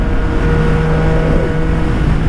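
A Yamaha MT-09 motorcycle engine drones loud and close in a steady accelerating roar with a sustained tonal hum and a slight pitch shift midway, with no talk.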